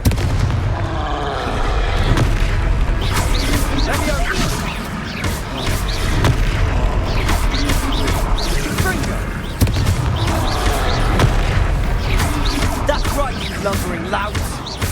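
In the Hogwarts Legacy video game, the fire spell Confringo sets off repeated loud explosive blasts and crashes in a busy, dense combat mix, with voices talking over the impacts.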